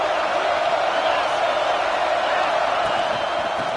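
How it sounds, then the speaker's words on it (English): A stadium crowd roars steadily throughout a college football video game, a broad, loud, continuous wash of cheering with no single voice standing out. "This crowd knows when to bring it."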